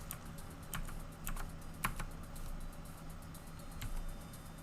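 Keys on a computer keyboard clatter in irregular taps while playing Planet X3, close and moderately loud against a steady low background hum, with no talk.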